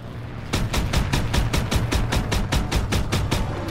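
A mounted gun fires at bombers in Call of Duty WWII, a steady rapid stream of evenly spaced heavy shots, loud and close, over a low rumble.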